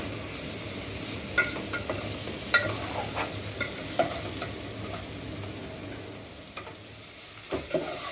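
Drumstick pod fry with turmeric is stirred in a pan. A spatula scrapes irregularly over a constant close sizzle of frying, with no talking.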